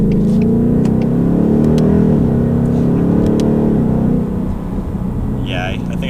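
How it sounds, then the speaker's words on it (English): Deep, steady rumble of a 2018 Ford Mustang GT V8 heard from inside the cabin while idling and rolling, loud and continuous, easing slightly toward the end as the car slows. "Yeah, the V8 rumble is nice."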